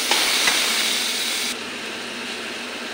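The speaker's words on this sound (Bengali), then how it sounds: "মশলাটা ভালো করে কষে নিই।" Spice paste with chopped tomato fries in oil for a puti fish dopiaza, a loud, dense, steady sizzle that eases slightly partway through. No voices are heard.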